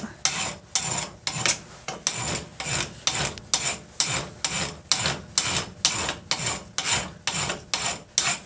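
Hand file rasping across a piece of iron clamped in a vice, in steady rhythmic strokes of about two per second, each stroke a close, bright scraping burst with short gaps between.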